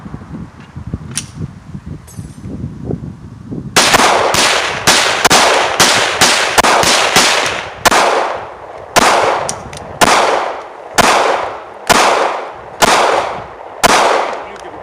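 A Smith & Wesson Shield 9mm pistol fires about ten loud, sharp shots at a shooting range in a steady, evenly spaced sequence, each crack trailing a brief echo, after some quieter rustling at the start.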